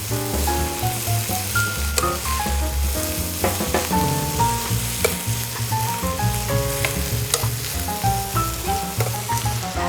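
Beef noodle stir-fry sizzling steadily in a hot pan, a continuous loud frying hiss with scraping and stirring clatter throughout, no voices.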